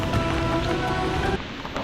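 Rain pours steadily during a monsoon bike ride on the Shiradi Ghat near Sakleshpur, a dense close hiss of drops that drums on surfaces, with a low rumble underneath.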